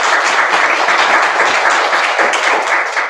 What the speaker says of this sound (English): So big round of applause for